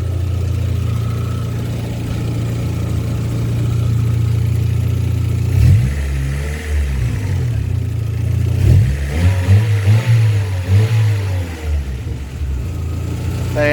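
Vauxhall Corsa B engine, warmed up after a radiator installation, idling with a loud steady drone, then revved twice, the pitch rising and falling in two surges before settling back to idle.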